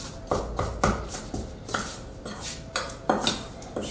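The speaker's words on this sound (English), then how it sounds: "let's mix that all up just a little bit" Dry apple cobbler ingredients with a dash of salt are stirred in a bowl, with a utensil scraping and clinking against the sides in a steady rhythm of repeated close knocks.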